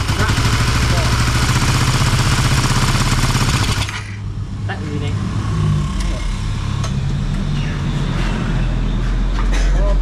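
A Suzuki Satria FU motorcycle engine idles with a steady, loud rumble; a harsh broadband noise from a rough-running fault drops away partway through, leaving the engine running.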